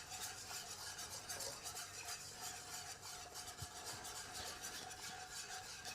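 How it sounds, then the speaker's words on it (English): A wire whisk works flour into melted butter for a béchamel sauce, giving a steady, close scraping and rubbing texture that runs without pause throughout. "Now, just using a whisk, we're just going to add our flour."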